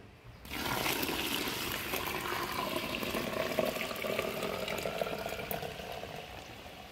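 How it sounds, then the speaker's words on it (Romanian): Lukewarm water gushes steadily into a 10-litre bucket over ground wheat, a continuous splashing pour close by that fills the whole stretch. "o vom turna peste grâu măcinat. Menționăm că găleata noastră are 10 litri și o vom umple cu apă călduță"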